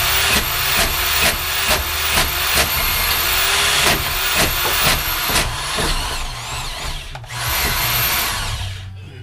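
A power drill with a deep well socket works on a 2005 GM 4T65-E transmission, whirring loudly and close in repeated short pulses that rise in pitch, then slowing into longer whines near the end.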